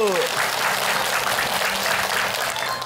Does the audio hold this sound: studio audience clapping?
yes